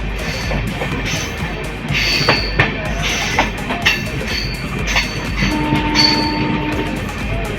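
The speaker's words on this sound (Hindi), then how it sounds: "फिलहाल इस साइड हमारी ट्रेन ओवरटेक करी अपनी अमृत भारत एक्सप्रेस अपनी समस्तीपुर रक्सौल पैसेंजर ट्रेन को" An Amrit Bharat Express passenger train overtaking a Samastipur–Raxaul passenger train, heard from on board with steady rail rumble, rhythmic clattering wheels and brief squeals, close and continuous throughout.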